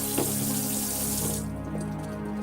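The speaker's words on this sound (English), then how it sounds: "And I just use tap water for this, for bread." Tap water pours steadily from a kitchen faucet into a sink, close and moderately loud with a full, rushing splash. The flow thins out or changes partway through. No voices are present.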